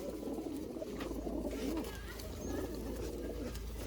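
Low, throaty pigeon coos rumble steadily throughout, with several birds calling at once and a few faint higher chirps overhead.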